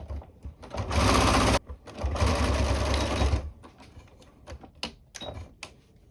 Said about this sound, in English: So we just start stitching down.